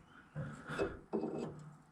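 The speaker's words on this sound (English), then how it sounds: "I think I'm going to try sanding this a little" A steel part from a Datsun 521 mini truck being sanded by hand, two short rasping strokes of abrasive against metal, close and moderately loud with a brief pause between them.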